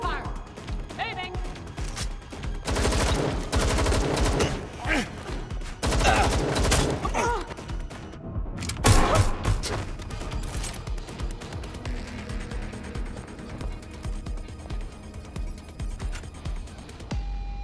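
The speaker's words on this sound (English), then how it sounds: "Gunfire!" Gunfire in the video game Watch Dogs Legion, dense bursts of shots and mechanical clatter over several seconds, loud and close, with voices talking over the action.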